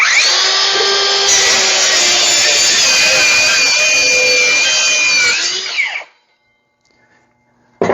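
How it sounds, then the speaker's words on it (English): A DeWalt 20V circular saw fitted with a 60V battery rips through wood in one loud, sustained cut lasting several seconds, then the blade spins down abruptly under its electric brake into near silence. "So here we're going to do a quick cutting test."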